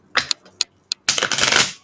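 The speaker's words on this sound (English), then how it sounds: "I had to shuffle this deck in 2 different piles because this is very thick card stock." A deck of thick card-stock tarot cards is shuffled in two piles, giving short riffling bursts followed by a longer, louder flutter of cards close by.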